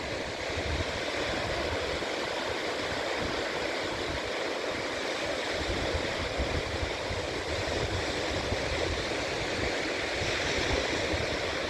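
Ocean surf rolls onto Sai Ri beach in Chumphon, Thailand, at night, producing a continuous, steady roar of breaking waves that holds an even level throughout, with no voices.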